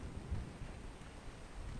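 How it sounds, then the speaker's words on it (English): Thunderstorm outdoors near a factory in Gears of War 3, a low rumbling of thunder and steady rain hiss with faint wind, fairly quiet and continuous, no voices. "Oh, lightning!"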